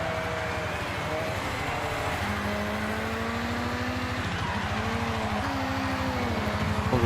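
A car drifting in the racing game Forza Horizon 6, with a steady engine drone and tonal tire whine that rise and fall together over a continuous, moderately loud stretch.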